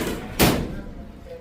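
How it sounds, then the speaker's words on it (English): The door of an automatic motorcycle wash machine in Tainan opens with a single short thud, followed by steady low machine hum. "Guess we could open the door."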